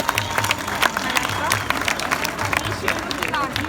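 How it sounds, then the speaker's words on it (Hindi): Audience applause for the poet Daniyal Tareer at a poetry gathering, a crowd clapping in a busy, uneven patter with some murmuring, moderately loud and steady. "दानियाल तरीर के लिए एक बार भरपूर तालियां बजाइए प्लीज"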